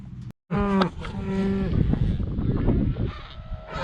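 Cattle moo loudly nearby, one long low call after a brief gap, with more lowing and bellowing overlapping.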